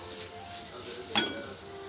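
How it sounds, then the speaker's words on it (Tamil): Onions, tomatoes and roasted gram sautéing in a pan give a low, quiet sizzle, broken by a single sharp clink of a utensil against the pan near the middle of the brief moment. "ஒரு ஒரு நிமிஷம் மட்டும் பொட்டுக்கடலை சேர்ந்து வதங்கட்டும்"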